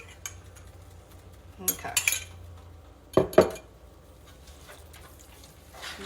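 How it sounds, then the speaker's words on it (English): A spoon stirs salsa into a beef enchilada mixture in a pan, giving a few separate clattering scrapes and clinks against quiet background, with a brief spoken word. "just put a little bit of salsa in, give that a good mix"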